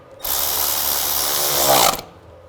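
A worm clamp on the air intake of a 2000-06 GMC Yukon is tightened with a steady, close whirring drive for almost two seconds, with no talking.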